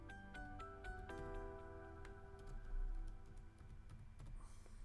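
Keys clatter on a computer keyboard as a Wi-Fi password is entered during Raspberry Pi setup: irregular, close clicks over a steady tonal background hum.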